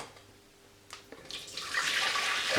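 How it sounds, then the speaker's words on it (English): Tomato soup mixture is poured into a pan, starting with a few faint clinks and building into a louder, rising liquid splash and gush toward the end. "we're going to now pour that into a pan"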